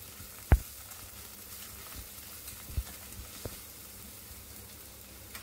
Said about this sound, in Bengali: আদা রসুনটা পেঁয়াজের সাথে ভালোভাবে মিশিয়ে আমি একটু ভেজে নিচ্ছি।